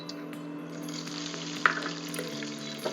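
Bay leaves and black pepper frying in hot oil give a steady close sizzle with a constant hiss, broken by a sharp pop or two and a faint stir, for a Tibetan laphing dish.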